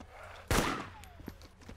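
Automatic gunfire in the video game DayZ: one sharp, loud burst of shots at close range that trails off into a fading echo, with faint background noise around it.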